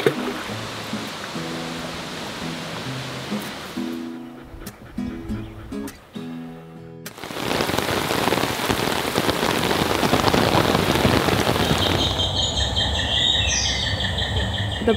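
Steady rain falls at a remote off-grid cabin in Canada, a broad continuous hiss that grows louder and denser midway, with faint bird calls in the last few seconds.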